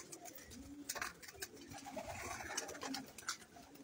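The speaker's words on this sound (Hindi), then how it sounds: "ये जी आपको ब्रीडर कबूतरों का सेटअप दिखाते हैं और शौक भी करवाते हैं।" Breeder pigeons coo softly in a loft setup, low repeated throaty calls over a faint background of rustling and scattered chirps.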